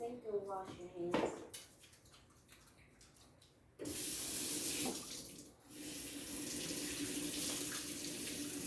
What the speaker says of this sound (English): please go to the sink and wash your hands.